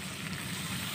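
Steady, close sizzle of cauliflower malai curry frying in a pan as a little water goes in, a continuous hiss with no talking.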